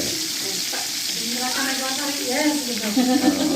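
Tempeh frying in a pan at a communal village cooking session, with a steady loud sizzle of hot oil as people talk over it.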